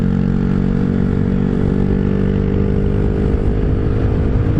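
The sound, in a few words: Honda Grom motorcycle riding at top speed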